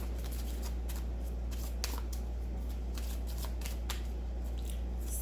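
Romance angel oracle cards are shuffled close up, a quick run of crisp riffling snaps repeating over about five seconds against a low steady hum.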